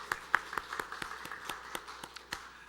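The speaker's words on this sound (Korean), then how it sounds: "우리 대접 봉헌하신 분들에게 감사의 마음 담아 박수 보내드리겠습니다" A church congregation at a Sunday morning service claps for the offering volunteers, a sparse, fairly faint round of distinct claps in a loose rhythm that thins out quickly.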